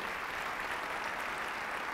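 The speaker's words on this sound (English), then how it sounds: "So let's give him a round of applause" Steady, dense audience applause fills a hall during a school district's annual State of the District address, continuous and even throughout with no voices rising above it.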